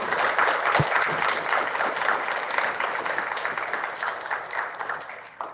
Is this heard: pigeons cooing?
no